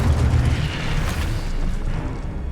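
An Incendio fire spell cast in Hogwarts Legacy bursts out as a loud, sustained whooshing boom of flame that holds for a couple of seconds and then fades slightly.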